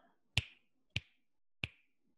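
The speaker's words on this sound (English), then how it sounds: "we're going to snap your fingers 3 times" Three crisp finger snaps, evenly spaced about two thirds of a second apart, sound close and clear against near silence.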